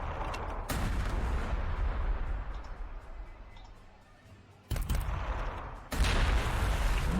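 Gunfire and artillery shots in the Warhammer 40,000: Sanctus Reach strategy game, sharp loud bursts of shooting followed by lingering rumbling decay, with several separate volleys.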